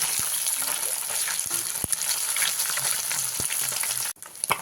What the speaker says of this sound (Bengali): মাছগুলোকে উল্টে পাল্টে দুটো সাইডে খুব ভালো করে ভেজে নিয়েছি